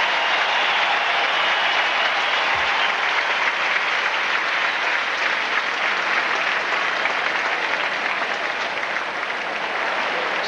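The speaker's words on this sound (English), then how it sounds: "The applause is for Lendl." A large tennis crowd at the 1992 US Open quarterfinal applauds Ivan Lendl steadily and loudly as he walks off court, sustained clapping filling the whole stretch without pause.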